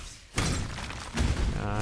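Heavy shattering impacts from the Glacial Hammer skill in Path of Exile, two loud crunching blows close together, each followed by a spray of icy breaking debris.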